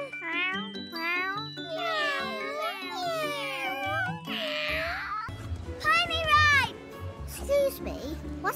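A voice imitates a kitten meowing, giving a run of high, sing-song meows in quick succession, close and clear, with a soft jingle and other voices talking in between.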